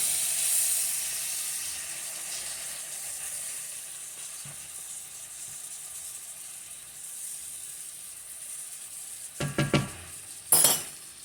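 Peaches cooking down in butter and brown sugar in a pan give a steady soft sizzle and hiss, with a few stirring scrapes and utensil knocks near the end.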